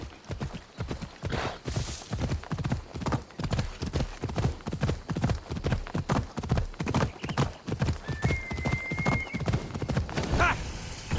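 Galloping horse hooves in the game Assassin's Creed Odyssey: a loud, steady, rapid drumming of hoofbeats running throughout, with a brief whinny near the end.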